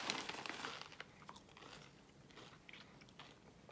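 Crisp biting and crunching of Doritos Jumpin' Jack cheese-flavored tortilla chips, close and fairly quiet, a few sharp crunches followed by continued chewing.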